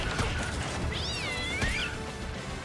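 A cat in the video game Maliki gives one clear, wavering meow in the middle of busy game sounds and soft thuds.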